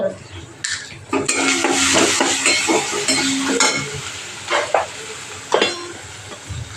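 Spiced masala paste is roasted in a pan for a soybean curry, with close, steady sizzling and a run of repeated spatula scrapes and stirs, some sharper knocks against the pan near the end.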